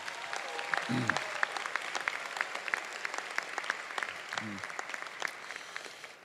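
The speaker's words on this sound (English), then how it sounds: "Give you a round of applause." An audience at a summer programs closing ceremony gives a steady round of applause, a dense wash of many hands clapping that holds for several seconds at moderate distance before gradually thinning out.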